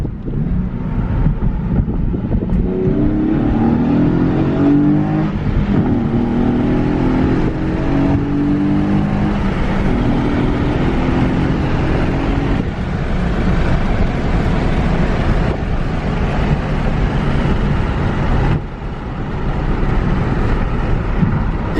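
A Nissan 370Z Nismo with stock exhaust revs and accelerates from inside the cabin, a low rumbling engine tone climbing in pitch over several seconds amid heavy wind and road roar that stays loud throughout.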